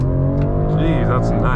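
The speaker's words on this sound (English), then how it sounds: "hard on the brake, hard on the gas" A BMW M340i xDrive launching hard from a standstill, its engine revving up with rising harmonic tones, loud and close, heard from inside the car while a person talks over it.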